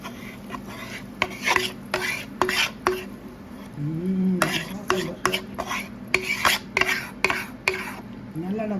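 A lime pickle with red chilli powder, freshly doused in hot oil, being stirred in a pot, with rhythmic metallic scrapes and clinks of a spoon against the vessel, close and distinct, with faint background hum.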